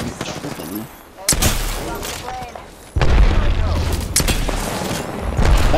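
Airstrike explosions in Apex Legends: several heavy, booming blasts land in sharp bursts, with rumbling, crackling fire between and after them.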